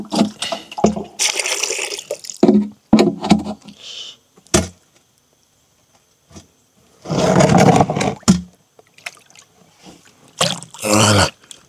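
Banana peel fertilizer solution is poured from a container into an empty watering can, making gurgling, splashing bursts of liquid close by, broken up by pauses and some handling noise.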